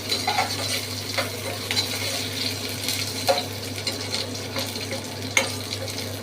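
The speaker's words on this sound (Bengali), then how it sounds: "সিমে ভাজছি হ্যাঁ তাতে করে সুন্দর একটা গন্ধ ভালো বেরোয়" Gentle sizzling of garlic and beans frying in oil over low heat in a pan, with occasional scraping and stirring clinks, steady and close, no talking.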